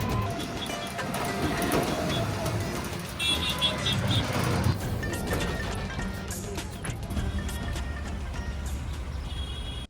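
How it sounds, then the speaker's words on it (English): Shaky rickshaw or tuk-tuk ride through busy Delhi traffic, with a steady engine rumble, rattling, passing vehicles and occasional horns, plus brief voices in the mix. "I couldn't miss the experience of an exciting ride on a rickshaw or tuk-tuk in Delhi"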